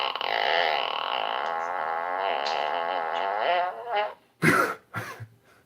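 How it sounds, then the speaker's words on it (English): A fart button plays its sound effect: a long, buzzy, wavering tone that fades out, followed by two short sharp blasts, loud and alone. "This is a fart button."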